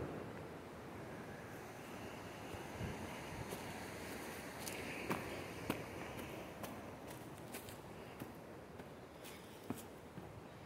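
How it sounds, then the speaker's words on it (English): A river cascade tumbling through the Great Smoky Mountains, a steady broadband rush of water with wind buffeting the microphone and a few faint knocks, continuous and fairly close. "Beautiful cascade coming down through there."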